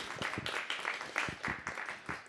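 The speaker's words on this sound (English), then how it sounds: "A nice round of applause," Audience applause for a performer named Eric at a spoken-word open mic event, a steady run of hand claps with sharp rhythmic accents over a room hum, continuing for a couple of seconds.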